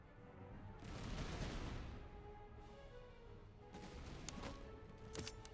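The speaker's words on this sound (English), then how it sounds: "Go ahead and open fire." Infantry open fire with muskets in the Master of Command battle game, a distant rolling crackle of volleys and scattered shots under steady battlefield rumble.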